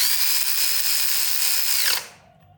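A power drill runs steadily for about two seconds as it lightly snugs bolts down on a Jeep XJ Cherokee, then its whine winds down and stops, leaving quiet.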